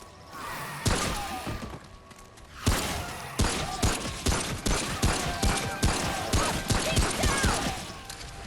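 Rapid gunfire in the video game Remnant: From the Ashes, loud repeated shots in quick bursts with heavy thumping impacts, continuing steadily after a short pause, with no talk.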